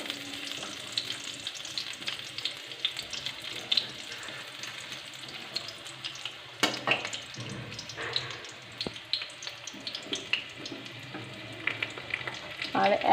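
Garlic and a small onion fry in a pan with a busy, crackling sizzle, punctuated by stirring scrapes and a louder burst of spattering midway, no talking.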